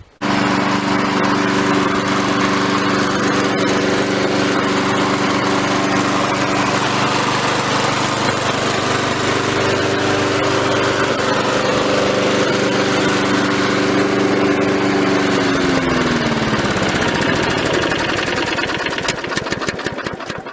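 A Victa lawn mower's small petrol engine runs steadily and loudly close by, a buzzing drone with strong harmonics, then dips and sputters in pitch near the end as it slows, with no voices.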